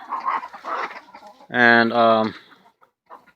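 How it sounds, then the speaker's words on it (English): A rooster on a farm lets out a loud, close, harmonic crow lasting about a second after a man's speech, then the sound breaks into a short cluck and fades into quiet. "The roosters are always squabbling"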